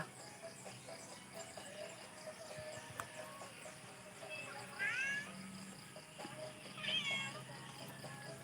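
A couple of faint cats meow twice, a few seconds apart, over quiet background hum and light rustling.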